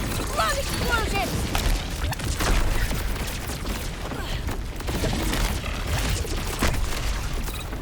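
Video game explosions in a Borderlands-style boss fight against Bloomreaper rumble and pop densely throughout, with layered booms and bursts over a continuous noisy bed, and a player talks over them.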